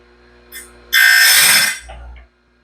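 Grinder sharpening the teeth of a homemade sawmill band blade, heard as a short loud grinding burst of about a second that trails off into a quieter scrape, with a faint tap just before.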